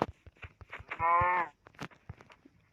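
A cow in Minecraft gives a single drawn-out moo of about half a second, set among short clicking game sounds and footsteps, with no voice over it.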